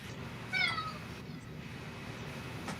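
A cat lets out a single short, rising meow at a moderate distance over a steady background hum, followed by quiet.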